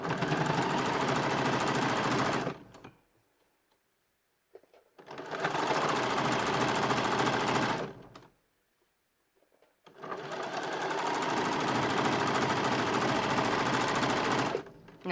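An electric sewing machine stitches the hood of a fabric bunny in three sustained bursts of fast, even whirring and clatter, separated by short quiet pauses.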